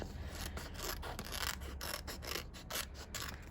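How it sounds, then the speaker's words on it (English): Continuous close rasping and rubbing as heat transfer vinyl is trimmed down for a Cricut T-shirt project, steady throughout with no talk. "I trimmed it down"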